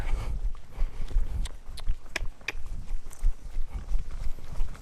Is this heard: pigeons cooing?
no